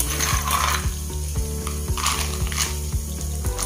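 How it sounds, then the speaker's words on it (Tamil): Peanuts fry with garlic in hot oil over a low flame, giving a steady close sizzle with rhythmic stirring and scraping clicks throughout. "இனி கொஞ்சம் கொஞ்சமாக வேர்க்கடலையே எண்ணெயில் போட்டு பொறுத்து எடுக்கணும்"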